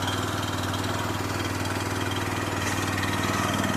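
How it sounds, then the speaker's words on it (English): A small gas engine on a work machine idles steadily nearby, a continuous even chugging with a low rumble and no change in pace. "It's got a little gas engine on it."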